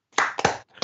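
Two sharp hand claps close to the mic, followed by a third quicker clap-like hit, crisp and dry with short gaps between them.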